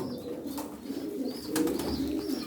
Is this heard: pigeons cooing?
yes